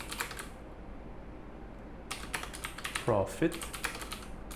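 Quick bursts of keystrokes on a computer keyboard while entering labels into a financial-modeling spreadsheet. Brief speech comes first, then rapid clustered clicks fill the second half, loud and close.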